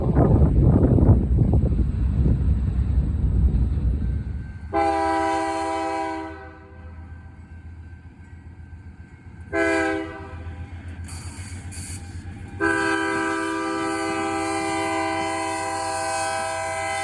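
Freight train M369 with two DPUs, one a Canadian National GE locomotive, rumbling past as its horn sounds in several long blasts, with wind buffeting the microphone.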